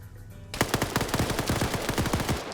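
Rapid automatic gunfire in a PvP military shooter game, a loud, close burst of evenly spaced shots breaking out after a brief quiet moment and rattling on continuously to the end.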